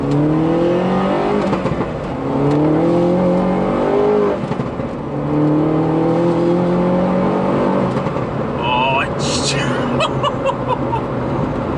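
A 288 bhp R56 Mini Cooper S engine rumbles and revs steadily around 3,000 RPM under a man's chatter and chuckling, with a brief high whine near the end.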